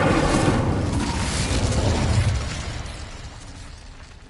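Incendio fire spell blast in Hogwarts Legacy, a loud close burst of roaring flame that swells and then fades away over a few seconds.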